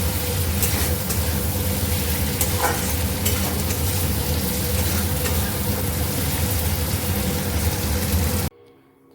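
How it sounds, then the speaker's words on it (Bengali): Onion, ginger, garlic, tomato and green chili for mutton do pyaza fry in a pan with a loud continuous sizzle and occasional stirring scrapes, then cut off abruptly near the end. "যে কেটে রাখা পেঁয়াজ আদা রসুন আর টমেটো কাঁচা লঙ্কা সেটা আমি দিয়ে দিলাম ভালো করে ফ্রাই করবো"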